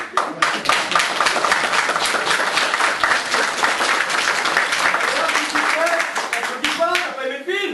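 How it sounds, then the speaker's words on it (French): A theatre audience at a stage show applauds loudly and steadily throughout, and a voice comes in over the clapping near the end. "On applaudit"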